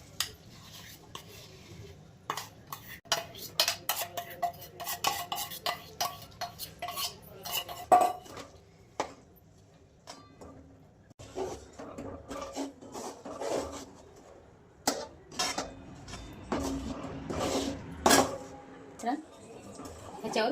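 A spoon stirs and scrapes methi ladoo mixture with melted jaggery in a pan, giving irregular close scraping, rubbing and clinking strokes in bursts, with a voice talking intermittently.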